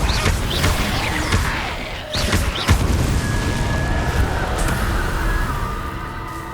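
A Confringo fire-blast spell from the video game Hogwarts Legacy on PS5 bursts with a booming explosive crack amid dense, continuous game sound effects and background ambience.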